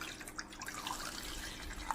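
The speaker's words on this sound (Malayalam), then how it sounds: "ഇനി ഇതിലേക്ക് 1/2 കപ്പ് വെള്ളം ഒഴിച്ച് നമുക്കിതൊന്ന് പാനിയാക്കാം" Water poured into jaggery in a cooking pan for a syrup, a faint, close, trickling pour with a few small drips, heard alone without talk.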